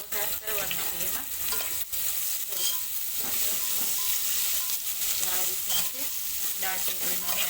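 Onions frying and being stirred in a pan while making dal dhokli, a steady broadband sizzle with scraping stir strokes throughout, fairly close and continuous.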